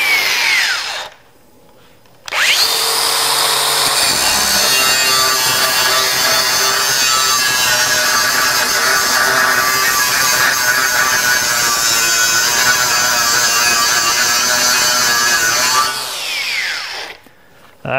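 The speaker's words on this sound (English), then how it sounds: "I took a chunk of metal off with that Type 27 wheel" DeWalt DCG414 FlexVolt cordless angle grinder with a Type 27 wheel grinding a chunk of metal: a brief spin-up, then a loud, steady high-pitched grinding whine for about thirteen seconds before winding down, no talk.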